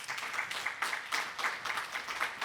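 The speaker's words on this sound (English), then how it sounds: "round of applause to these esteemed experts" A seated audience at a panel on flexible grids and electrification gives a soft, steady round of applause to a panel of energy experts, heard from a distance.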